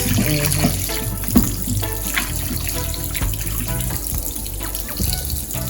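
A kitchen tap runs steadily into a sink while raw meat is washed, giving a loud, continuous close-up gush of water with small splashes throughout and no talking.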